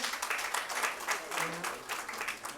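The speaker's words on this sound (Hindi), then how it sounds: "डॉक्टर कीर्ति काले जी, जोरदार तालियों के साथ हम स्वागत करें" Faint applause from an audience at a Hindi poets' gathering, a short patter of clapping with a voice and tonal sounds mixed underneath.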